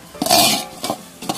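Mint and coriander leaves being stirred and sautéed in a pot for Ambur-style mutton biryani, with a few bright scraping stirs and a soft sizzle, close and loud, no voices.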